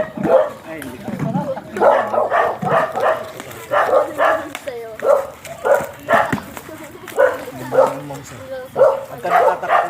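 An aggressive Belgian Malinois barks and yips in a steady series of loud, close barks, with people talking throughout.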